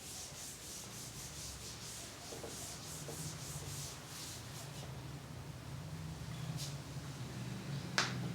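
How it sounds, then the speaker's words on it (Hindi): A board eraser rubs out writing during a maths lesson, making a steady soft scrubbing hiss for several seconds with a faint tap near the end and no speech. "मैं इधर से रब कर देता हूं इसको"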